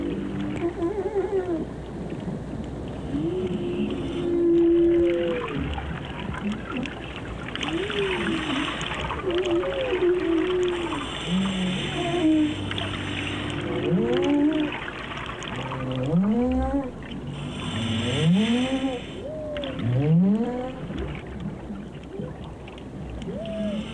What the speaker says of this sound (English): the whales heard a mechanical reproduction of their own song